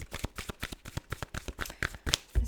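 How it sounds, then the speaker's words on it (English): Tarot cards are shuffled by hand in a quick series of soft riffling, slapping bursts, close and fairly quiet, with no talk over them. "So start to shuffle there"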